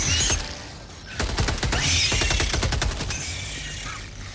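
Rapid bursts of gunfire from the Penetrator rifle in Helldivers 2, close and loud shots in quick succession with a brief pause between volleys, trailing into a fading echo.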